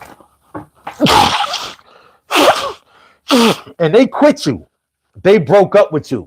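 A few sharp, burst-like sneezes break up a man's speech, loud and close, with talking in between.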